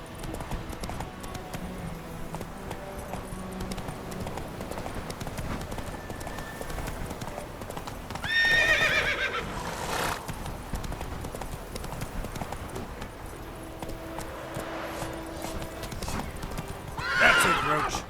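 Roach, Geralt's horse in The Witcher 3, gallops with rapid, steady hoofbeats and lets out two loud neighs, one in the middle and one near the end, with game music and a voice underneath.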